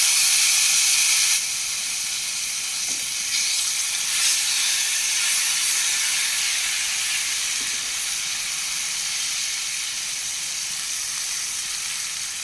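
Onion paste sizzles steadily in the hot oil left from frying koi fish, a loud, continuous hiss that starts with a brief stronger burst and then settles to an even level with no talking.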